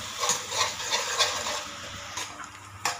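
Chilli paste frying in a pan for rajma curry, a soft crackling sizzle with irregular stirring scrapes and a few sharper clinks against the pan.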